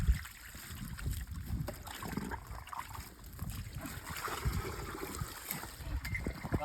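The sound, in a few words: water being poured into a vessel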